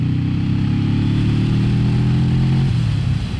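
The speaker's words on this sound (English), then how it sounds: "You can hear the engine's a little bit low at the moment" A Kawasaki Vulcan S cruiser motorcycle engine runs steadily at low revs in fourth gear, a deep, loud, continuous rumble that holds even, then dips slightly near the end.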